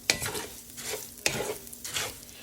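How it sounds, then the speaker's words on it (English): Two cups of uncooked rice toasting in oil in a pan on the stovetop, with a steady sizzle and two sharp scraping stirs, close and with no talk. "We're just going to toss this around in the oil for about 2 to 3 minutes"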